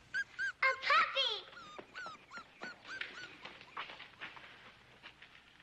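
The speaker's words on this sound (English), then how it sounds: "A puppy!" High, yipping whimpers from a puppy, several short cries in quick succession at first, then softer whines trailing off amid faint background voices.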